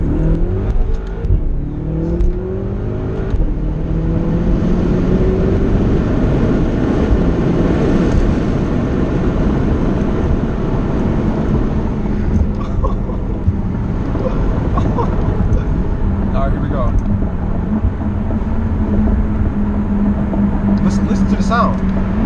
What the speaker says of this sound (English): the motor sounds phenomenal, so we gotta get some sound going